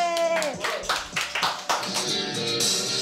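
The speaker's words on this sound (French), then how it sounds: "Applaudissez." At home during a Christmas gathering, a family claps a few quick, uneven bursts of applause before karaoke begins, fairly close and modest in volume, with voices mixed in.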